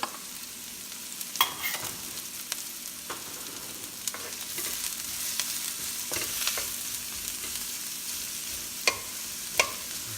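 Onions, garlic and ginger sizzle steadily in a pan while being half-cooked for a sweet and sour fish sauce, with occasional clinks and scrapes of a utensil stirring, close and without talk.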